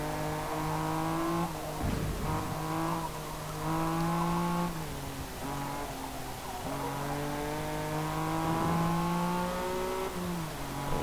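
A 2005 Honda NSX-R in the Forza Motorsport game running its final corners, engine revving up and down through gear changes with faint tyre noise, loud and steady throughout.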